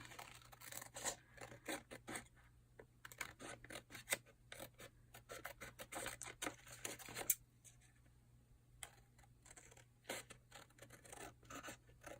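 Scissors cutting paper for a collage postcard, making a long series of quiet, crisp snips and rustles close by, with short pauses between bursts and no talk.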